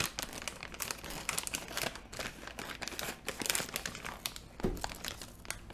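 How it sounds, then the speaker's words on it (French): A plastic seafood bag is cut and handled with scissors, giving close, quiet crinkling and rustling with small snips throughout. There is no talk. "Toujours utiliser des ciseaux pour ouvrir les sacs."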